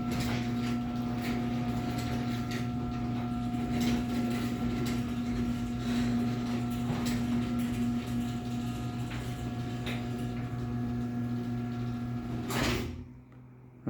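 A Chamberlain 1100 garage door opener runs on a small door, giving a steady, continuous mechanical hum and drone with a faint rattle throughout, close by, until it stops near the end.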